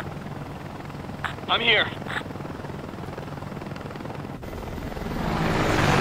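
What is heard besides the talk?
helicopter in video game Ace Combat: Assault Horizon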